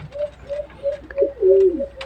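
An alimokon dove gives a series of soft, low cooing calls in a forest setting, each coo short and evenly spaced, with a louder, longer coo near the end; no talking.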